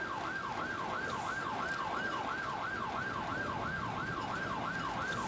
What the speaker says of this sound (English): God, these police sirens are killing me.